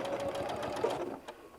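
A sewing machine stitching fabric for a large bean bag, a brief steady motor whir with rapid needle ticking, close and continuous for under two seconds with no talking.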